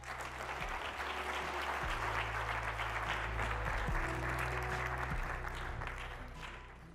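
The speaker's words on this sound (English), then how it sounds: "We give a big round of applause for Justin Trugman." A sustained round of crowd applause for a speaker at a Stevens tech gathering hosted by Bell Labs, dense and steady for about six seconds before tapering off, with a low hum underneath.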